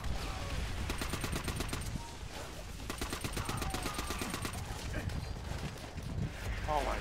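Type 99 automatic fire in Call of Duty: World at War, rapid bursts of shots in repeated strings, loud and close, mixed with game noise and voices talking over it.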